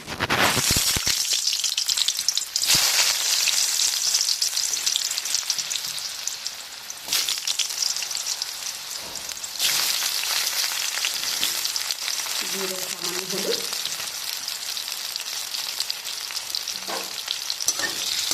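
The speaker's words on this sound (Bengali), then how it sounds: "আলুগুলো আমি ভেজে নেব।" Potatoes frying in three tablespoons of mustard oil for spiced aloo bhaja make a loud, continuous sizzle with occasional stirring, while a voice speaks briefly over it.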